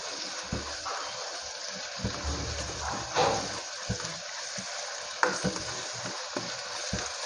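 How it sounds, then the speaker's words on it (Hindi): Peshawari fried mince sizzles steadily in a pan over a high flame, a continuous moderate frying hiss with occasional louder spits and stirring scrapes, and no talking. "अब मैं इसको हाई फ्लेम पे फ्राई कर लूँगी।"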